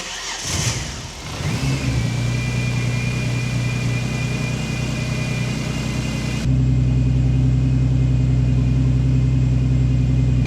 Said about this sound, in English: So now we're going to start the car